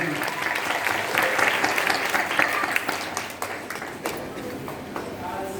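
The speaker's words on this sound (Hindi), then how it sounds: "एक बार इनके लिए जोरदार तालियां।" Loud, sustained applause from a Bhagwat Katha audience, dense clapping that swells and then thins toward the end, with a little crowd noise mixed in.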